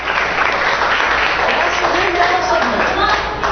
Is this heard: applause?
yes